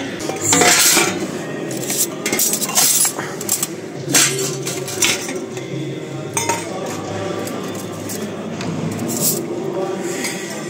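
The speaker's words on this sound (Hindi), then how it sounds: "मैंने अपनी प्लेट उठा ली है" Metal cutlery and steel plates clink and clatter repeatedly in a busy gurdwara langar hall as a plate is picked up, with continuous crowd murmur and occasional nearby voices in the background.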